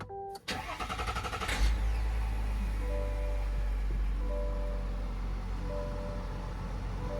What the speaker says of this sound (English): I'm going to go ahead and start my vehicle.